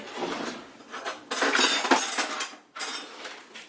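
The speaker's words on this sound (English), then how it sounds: "I'm going to get a spoon and taste it." A spoon clinks and scrapes against a dish of Middle Eastern dip, with a few short bright metallic contacts in bursts, close and fairly loud, with no talking.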